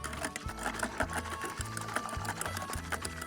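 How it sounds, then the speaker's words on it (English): A tiny whisk beats liquid in a bowl with rapid, steady, close-up clicking and ticking that runs on evenly throughout. "I'm going to fluff it up with the world's smallest whisk."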